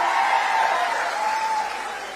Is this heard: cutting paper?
no